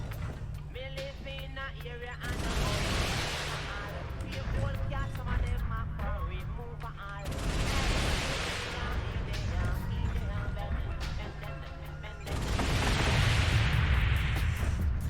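Clan missile volleys firing in MechWarrior Online, three bursts of rushing, hissing launches with low rumble over a continuous mech engine drone, loud and close, with a few quieter shots between.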